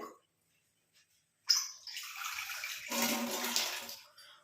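After a brief silence, about half a tumbler of water pours steadily into a pot, a close, full splashing stream that grows a little louder and then tapers off.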